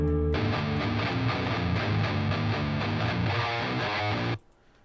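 Heavily distorted, low-tuned electric guitar riff in a deathcore track, a recorded take slowed and pitch-matched, chugging rhythmically for about four seconds before cutting off to near silence.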